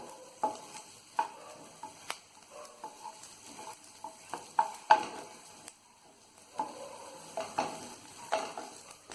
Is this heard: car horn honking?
no